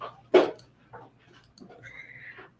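A dog gives a single sharp bark followed by softer whimpering and whining sounds, heard nearby in a quiet room.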